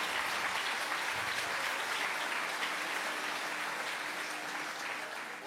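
Applause from an audience at a political meeting: steady, dense clapping at moderate volume, continuous throughout and fading slightly toward the end.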